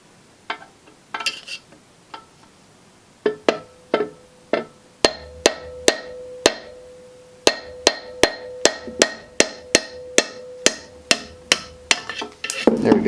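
Hammer tapping a part out of a 1950s Atlas Model 9360 band saw against a wooden block, a long run of sharp knocks that start sparse and quicken into a steady rhythmic tapping, close and clear.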